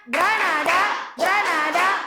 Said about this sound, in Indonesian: Tepuk Granada.